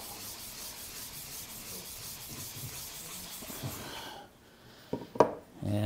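A blade sharpened on an extremely fine 16,000 grit whetstone, steady soft rhythmic rubbing strokes close up, followed by a pause and a few light clinks.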